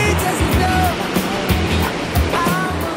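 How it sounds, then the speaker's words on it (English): Fresh mountain water flowing near a village in Thimphu, Bhutan: a steady, close rush of water with a constant broadband wash and no pauses. "Just touch water. Fresh mountain water,"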